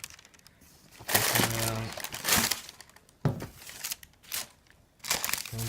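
Plastic and paper packaging around UGG Neumel boots crinkles and crunches in several separate bursts as it is pulled out, with a voice speaking between and over the handling.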